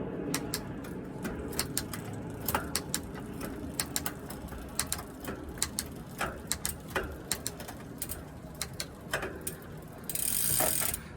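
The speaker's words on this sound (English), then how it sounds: "first I'm gonna get this into the lowest gear" Bicycle freehub ratcheting as the gears shift into the lowest gear, a fast series of light clicks over a low mechanical hum, fairly faint and close with no speech.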